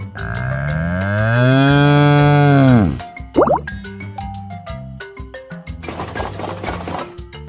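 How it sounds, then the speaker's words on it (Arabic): A cow gives one long, loud, close moo that sinks in pitch as it ends, followed by light plinking, dripping sound effects. "بقرة."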